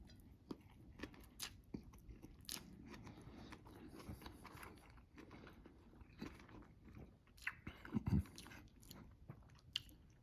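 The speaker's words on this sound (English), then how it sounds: "Not only do you get the crunch of the ham and also the crunch of the bok choy" Close, quiet chewing of a crunchy ham and bok choy stir fry, with irregular crisp bites and crunches spread across the clip and a louder burst of crunching near the end.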